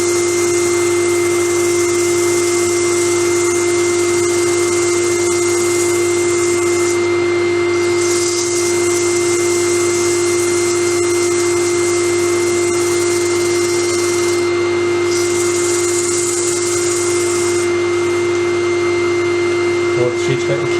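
A wooden bowl's outside being sanded with 240 grit abrasive, a steady continuous hissing rub over a constant machine hum, loud and unbroken with brief dips in the high hiss.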